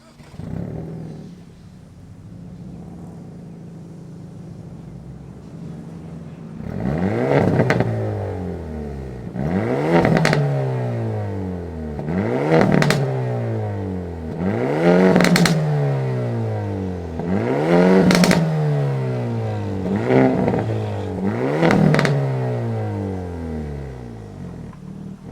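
A 2023 Hyundai Elantra N starts up and settles into idle, then its engine is blipped through about seven sharp revs that rise and fall back, loud and close with no talking.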